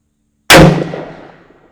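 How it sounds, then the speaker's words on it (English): A single sharp shot from a Smith & Wesson 627 V-Comp big N-frame revolver with compensator, firing a 357 Magnum load in single action at 25 yards; a loud close crack after silence, trailing off. "I am going to shoot this in single action."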